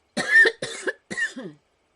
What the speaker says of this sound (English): As you can tell, I've still got a little bit of a cough.